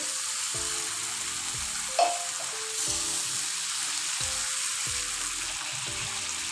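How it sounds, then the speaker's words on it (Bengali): Spiced masala water is added to koi fish masala frying in mustard oil, giving a steady, close sizzling hiss with a brief splash and faint background music. "এই মশলার পানিটা আমি এখানে দিয়ে দিচ্ছি।"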